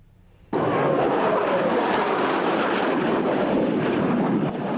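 A loud, steady F-16 fighter jet engine roar bursts in suddenly during a live-fire military exercise, holding a broad, rushing drone, fading slightly at the end; no voices.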